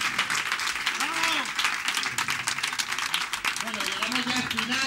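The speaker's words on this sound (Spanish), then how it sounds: "¡Fuerte el aplauso para Carolina!" Audience applause at a magic show, loud sustained clapping from a crowd lasting throughout, with an announcer's voice calling out over the start of it.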